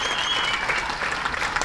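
Crowd applause at a Tamil movie audio launch, a dense steady wash of clapping from a large audience throughout the short stretch.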